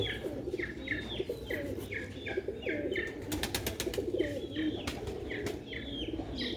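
Pigeons coo in repeated soft rolling phrases close by, with bird chirps, a brief burst of wing flaps and a busy background hum around them.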